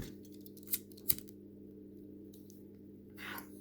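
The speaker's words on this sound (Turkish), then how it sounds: "Şimdi ben burada kırmızımı kesiyorum." Scissors snipping red embroidery thread up close, two short sharp snips followed by a faint rustle, under a low steady background hum.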